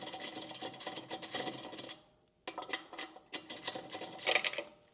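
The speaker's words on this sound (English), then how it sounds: "I'm taking them off with the telescopic wrench" Lug nuts being spun off a BYD Seal car wheel with a telescopic wrench, a quick rapid ratcheting metallic whir close by, a short pause, then another burst, no talking.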